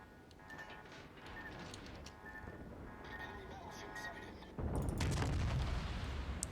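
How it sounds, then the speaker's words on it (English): Naval gunfire from the destroyer Fubuki and cruiser Ibuki in World of Warships, a series of distant booms under continuous engine and ambient noise, swelling into a louder, rumbling burst near the end. "I think it's not just the Fubuki is firing, it's also the Ibuki."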